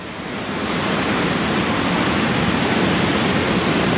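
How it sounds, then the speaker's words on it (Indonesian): A swollen river starting to overflow rushes in a continuous, loud, broadband roar, steady and close with no breaks. "Sungai mulai meluap, teman-teman."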